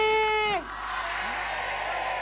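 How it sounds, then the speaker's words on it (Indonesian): A studio audience on a television comedy show applauds and cheers for the team, a steady roomy roar of clapping and whoops that follows a loud sustained shout from a voice at the start. "tepuk tangan untuk tim dong"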